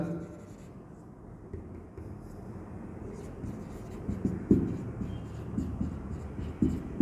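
A pen scratches steadily across paper in a classroom accounts lesson, close and soft, with a few firmer strokes toward the end and no talk over it.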